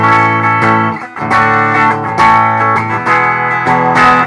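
Clean electric guitar chords through the bridge humbucker pickup ring out brightly with a chiming, sparkling tone, strummed in several bursts with sustained notes between.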